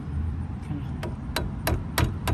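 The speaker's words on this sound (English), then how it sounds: "You might want to use a hammer too" A hammer taps on a brake hose fitting of a Ford Focus, giving five sharp metallic knocks spaced about a third of a second apart over a low background hum.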